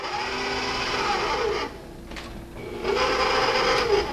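A stand mixer with a paddle attachment churns dry ingredients, giving a steady motor whir that stops briefly and then resumes, close and moderately loud.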